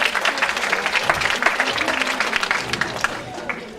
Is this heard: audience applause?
yes